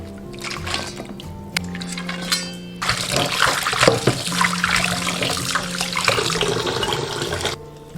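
Boiled pork trotters are rinsed under a kitchen tap. After some light clattering, the water gushes loudly and steadily for about five seconds, then stops abruptly.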